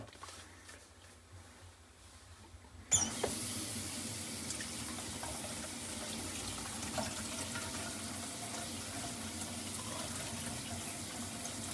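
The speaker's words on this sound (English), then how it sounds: "let's run some water and see if we have any leaks" Water running from a tap into a sink under a drain being checked for leaks: quiet background at first, then the faucet opens abruptly and a loud, steady rushing splash continues to the end.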